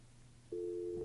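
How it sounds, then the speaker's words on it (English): A steady telephone tone begins halfway through and holds level and loud to the end, placed while calling someone from a budget committee meeting room; a low hum runs underneath throughout. "I got to get Carol on the phone."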